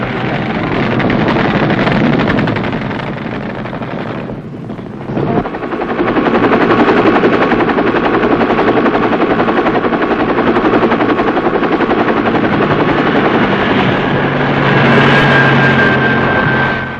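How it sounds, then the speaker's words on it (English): A military medevac helicopter from 1966 flies in a loud, continuous rotor roar with rapid chopping, briefly dipping about a third of the way through before returning at full strength. "In less than 7 minutes after the pickup, Medevac has brought Dave Baggett to touchdown"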